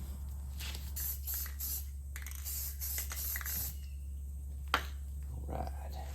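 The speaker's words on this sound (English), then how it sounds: "then we'll hit it with some matte clear." Matte clear coat hissing from a spray can or gun onto a new rocker panel on a Grand Wagoneer, with short broad bursts of spray over a steady low hum. A faint voice is heard in places.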